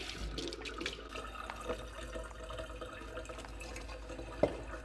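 Water poured into a bowl of strawberry cupcake batter, a running, splashing flow with a few drips and one sharp clink near the end, close and moderately quiet.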